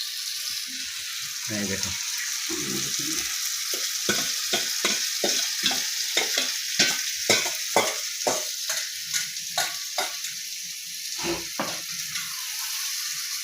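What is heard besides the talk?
meat poured into spiced masala and frying in pan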